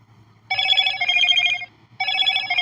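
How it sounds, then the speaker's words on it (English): Two bursts of electronic phone notification tones, a rapid warbling chime lasting about a second, a short pause, then another starting, over a faint low hum with no talking. "I just got a bunch of notifications."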